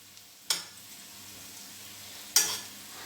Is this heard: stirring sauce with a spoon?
yes